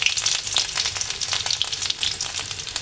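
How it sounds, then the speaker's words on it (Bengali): Ginger sizzling in hot ghee for a broccoli and vegetable stir fry, a steady dense crackle with bright spattering pops, close and continuous throughout, no voices. "প্রথমে আমি ঘির মধ্যে দিয়ে দেব আদা"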